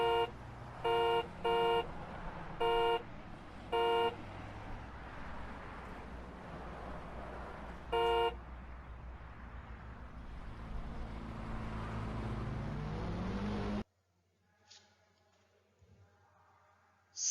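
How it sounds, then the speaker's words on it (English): Road traffic rumbles steadily as several short car horn toots sound in quick succession, then one more a few seconds later, before the noise cuts abruptly to near silence. "So it happens when the vehicles move in traffic."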